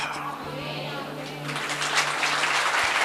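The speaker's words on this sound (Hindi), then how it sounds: "तालियां बजाओ" A congregation at a church sermon claps, a soft wash of applause that builds in strength midway and continues steadily beneath a low sustained tone, moderately close.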